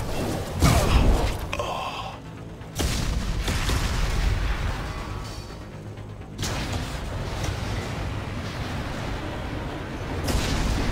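Gunfire in the video game Mass Effect 2 during a firefight at a burning refinery: sustained bursts of shooting with sharp onsets and a steady roar of combat noise throughout, fairly loud and dense with no clear pauses.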